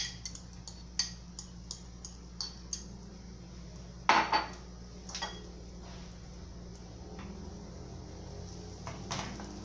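A pan is handled in a home kitchen while a sardine pie cooks on the stove, with scattered metallic clinks and one louder clatter as the lid goes on, close and otherwise quiet.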